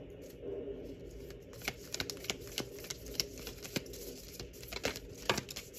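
Tarot cards being shuffled close by, with soft repeated riffles and flicks in irregular bursts over a quiet background.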